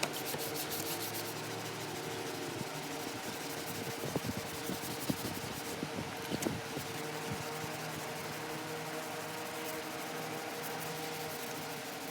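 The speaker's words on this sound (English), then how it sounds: "as you can see, I got the panel sanded down" A body panel being wet sanded with 1500 grit sandpaper: a continuous close, even rubbing hiss with a few sharper scuffs midway.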